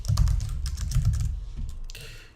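Rapid bursts of computer-keyboard keystrokes close up, with short pauses between runs and a couple of sharper taps near the end.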